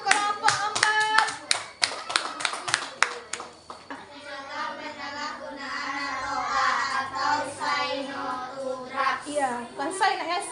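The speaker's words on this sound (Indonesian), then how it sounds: "Tepuk tangan untuk kelompok 4." A sixth-grade class in an Indonesian primary school claps in quick rhythmic bursts for a few seconds, close and crisp, before children's voices take over.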